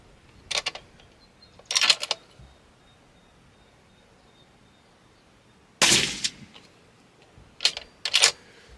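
Rifle shots fired past Garmin and FX chronographs, heard as a handful of sharp, separate cracks spaced a few seconds apart over a quiet background, with no talking.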